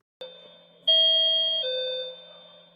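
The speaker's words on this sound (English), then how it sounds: "Rings the bell." A doorbell gives a clear two-tone ding-dong chime, a higher note and then a lower one, ringing out and fading over a faint steady hum, with no other sound.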